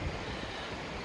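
River flowing in the Mourne mountains, a brief, steady, fairly quiet rushing wash of water with some wind buffeting the microphone, and no one speaking.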